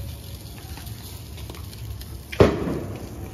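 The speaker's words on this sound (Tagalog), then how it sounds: "ang lakas ng putok no" A single sharp firecracker bang bursts out against quiet background hiss at New Year, then decays into a brief rumbling tail.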